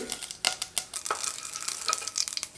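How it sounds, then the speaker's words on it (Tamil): Rapid crackling pops and sizzles from small seeds bursting in hot oil, close by, with a few sharper snaps standing out. "தாளிக்க அரை டீஸ்பூன் கடுகு கடுகு பொரியது"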